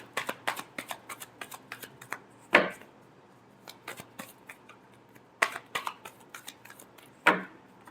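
Tarot cards are shuffled in a rapid series of crisp riffling snaps and soft card flicks, close and fairly quiet, with a few sharper bridging clacks standing out against near silence.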